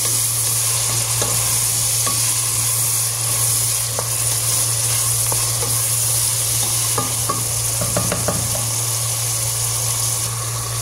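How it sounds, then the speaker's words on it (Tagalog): Onions and tomatoes sauté in a hot pan with a continuous loud sizzle, broken by scattered scraping clicks as they are stirred, with no talking. "So, napito na po yung yung sibuyas bombay at saka kamatis."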